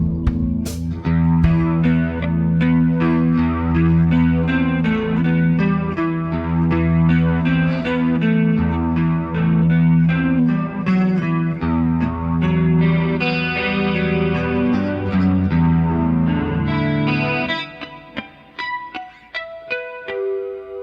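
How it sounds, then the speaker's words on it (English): An electric guitar on its neck pickup plays a clean, sustained melodic passage with a chorus-like shimmer, notes ringing continuously before thinning out near the end. "See how the neck pickup sounds clean."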